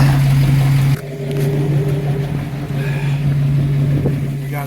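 A 1987 Chevrolet Blazer engine idling steadily at close range, a low constant hum with a brief dip in level near the start, no speech.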